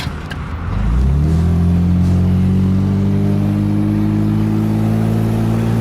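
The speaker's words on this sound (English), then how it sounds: "Listen to this exhaust." A car with a badly damaged exhaust starts up and settles into a loud, rough, rumbling idle, the exhaust droning and blatting steadily close by.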